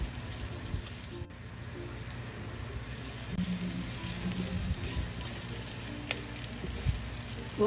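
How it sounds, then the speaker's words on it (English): Onions fry for pork picadillo in a pan, a dense, steady close-up sizzle with occasional faint scrapes of a spatula, continuous throughout. "I'll add the onions now."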